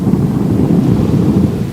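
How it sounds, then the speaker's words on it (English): Thunder rumbling through a snowstorm, a steady low, dense roar that holds at constant loudness for the whole short stretch, with no voices over it. "and that's thunder snow"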